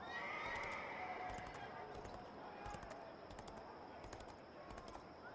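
Hoofbeats of a horse ridden in the video game Runes of Magic patter in steady repeated clusters over a constant low background hum, quiet and evenly paced throughout.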